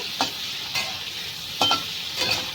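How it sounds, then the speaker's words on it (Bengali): Egg fries in a pan with a little turmeric and chilli powder, a steady sizzle broken by four distinct scraping strokes of a spatula stirring it. "অল্প করে একটু লঙ্কার গুঁড়ো দিয়ে ভালো করে ভেজে নেব"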